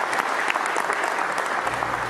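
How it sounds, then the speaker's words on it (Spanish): Steady, dense applause from a crowd in an ovation at police headquarters, loud and continuous for the whole stretch. "agradeció ovacionando y aplaudiendo al oficial novato Sumit Sulan"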